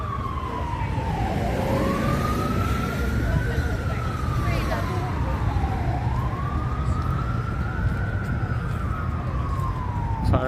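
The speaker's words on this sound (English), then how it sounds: "Sirens, of course, yes." An emergency vehicle siren wails along a New York City street, its pitch sweeping up and down in repeated cycles over a steady roar of city traffic, loud and fairly near.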